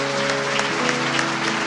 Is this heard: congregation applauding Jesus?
yes